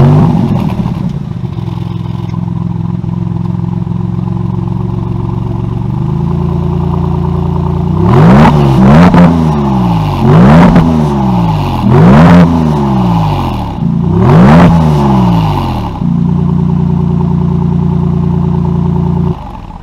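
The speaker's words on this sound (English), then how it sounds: "You have to hear the internal combustion engines. Let's fire it up." 2023 Maserati MC20 engine firing up in Corsa mode: a loud close start settles into idle, then a string of sharp revs rises and falls in quick bursts before dropping back to a steady idle.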